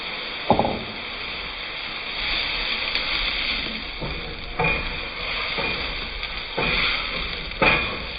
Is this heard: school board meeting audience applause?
no